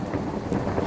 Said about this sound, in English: I heard the distant thunder that way